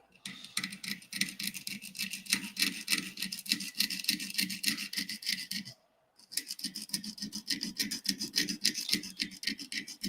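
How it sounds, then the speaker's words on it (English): Steady rasping strokes of a hand file cutting a 90-degree gouge into a Klingon 7D model, close and continuous, with a brief pause midway before the scraping resumes. "So I'm just filing like a 90-degree gouge in there."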